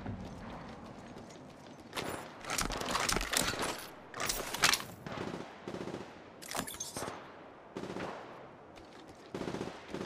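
Gunfire in the Apex Legends Mobile video game, with bursts of rapid automatic shots and scattered single cracks over a low game background, loud and close, with short quiet gaps between volleys.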